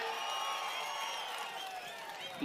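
A crowd at an outdoor political rally in Prathipadu cheers and claps at a distance, a soft, continuous wash of voices and applause.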